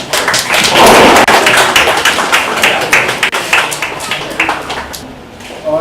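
Studio audience at a talk show featuring film cast members applauding, a loud, dense wash of clapping with some thumps, strongest early and slowly thinning out over about six seconds.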